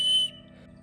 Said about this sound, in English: And an emergency whistle.